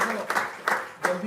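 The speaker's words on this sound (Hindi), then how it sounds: "एक बारी तालियां बजा दें, स्वागत कर दें." Scattered applause from a small audience at a Narendra Modi birthday event, fairly faint and brief, with a voice talking over it.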